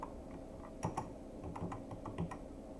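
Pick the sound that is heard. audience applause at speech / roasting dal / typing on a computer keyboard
typing on a computer keyboard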